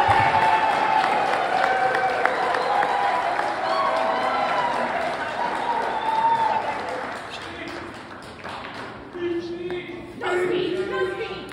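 An audience at an RV camping and outdoor show awards ceremony breaks into steady applause with some cheering, filling the room before fading, with voices talking near the end.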